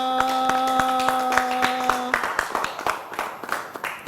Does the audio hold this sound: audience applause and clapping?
yes